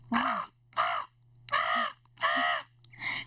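A human voice imitates a crow, giving five harsh, nasal caws in a steady rhythm, each about half a second long, with a low hum beneath.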